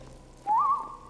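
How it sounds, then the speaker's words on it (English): Someone whistles a single short rising note in Skyrim Special Edition, clear and fairly loud over quiet background ambience. "I think we're safe to be whistling at each other now."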